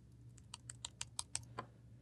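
Crisp computer keyboard keystrokes entering Pro Tools shortcut combinations, about eight separate clicks in an uneven, quick rhythm, close up and fairly quiet over a low steady hum.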